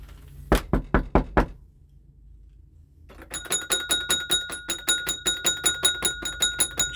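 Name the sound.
knocking to call out a spirit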